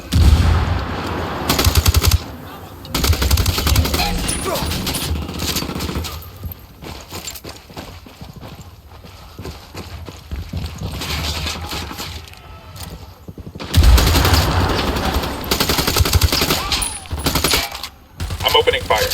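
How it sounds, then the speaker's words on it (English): Bursts of machine gun fire in a tactical shooter game, loud sustained volleys at the start and again later, with quieter stretches of scattered shots and ambient battle sound between them. "I'm opening fire."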